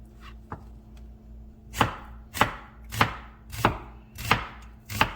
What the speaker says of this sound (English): And julienne your onions.